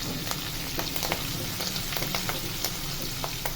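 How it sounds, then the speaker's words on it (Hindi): Cumin, finely chopped ginger and green chili sizzle in a pan as a spoon stirs them, with a constant close frying hiss and regular light spoon clicks against the pan. "चम्मच चलाएंगे"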